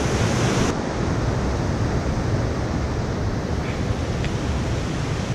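A mountain river rushes steadily near a bridge on a Northern Alps hiking trail from Sanmata toward Mount Chogatake, a loud continuous roar of flowing water filling the whole stretch without voices.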